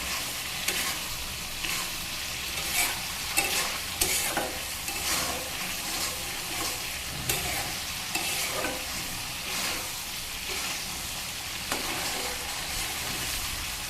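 Sesame spice paste sautéing in a pan for ash gourd greens, soft sizzling broken by repeated scraping strokes of a spatula in an uneven rhythm, fairly quiet and close.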